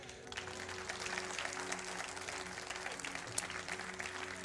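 Church congregation applauding during a sermon, a continuous even patter of many hands clapping at moderate distance with a faint steady hum underneath.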